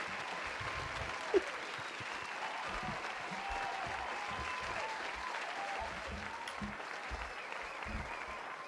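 Steady applause from an audience fills the room at moderate distance, a dense even patter of clapping that holds throughout with scattered low thumps underneath.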